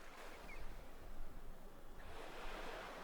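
Sea waves wash in a soft, continuous surge, rising and falling gently at a moderate distance with no voices.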